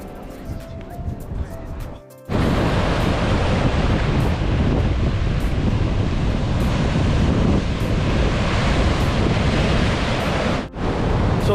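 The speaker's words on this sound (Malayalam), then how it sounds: "ഇവിടെ ഒരു ഹോളുണ്ട്, അതിലേക്ക് ഈ തിരമാല അടിച്ച് വെള്ളം ഒന്ന് കയറുമ്പോൾ ശരിക്കും ഇടിമുഴക്കത്തിൻ്റെ സൗണ്ടാണ്" Atlantic ocean waves surge into Thunder Hole, a rocky inlet in Acadia National Park, Maine, making a loud, continuous rushing roar buffeted by wind, after a brief quieter opening with faint voices.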